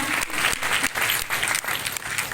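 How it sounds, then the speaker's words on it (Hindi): An audience at an indoor ceremony applauding, a steady, fairly near burst of clapping with slight rhythmic surges throughout, no speech. "एक बार इनके लिए जोरदार तालियां हो जाएं"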